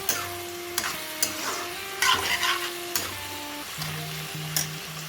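Potato pieces and chopped tomato being stir-fried in a pan in a home kitchen, with a steady close sizzle and several scraping stirs at irregular intervals, with no talking.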